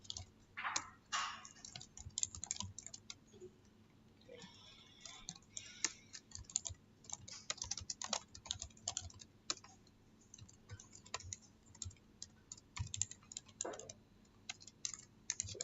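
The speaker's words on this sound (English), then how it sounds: "finish typing up all the various values" Typing on a computer keyboard, quick irregular clusters of sharp clicks and key taps close to the microphone, with short pauses between bursts and no talk.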